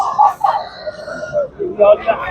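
Nearby rooster calls, a short crow-like cry and clucking, with voices around it at a busy poultry market in Tuzla.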